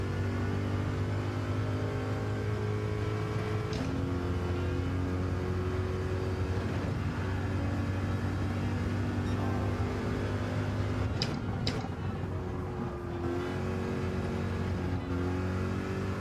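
Race car engine in a racing video game at Bathurst, a continuous close droning whine that rises and falls in pitch as the car revs through gears, heard alone without talk.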